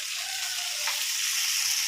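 Spiced potatoes frying in a pan give off a steady, close, bright sizzling hiss, with a faint stir in the middle and no talking.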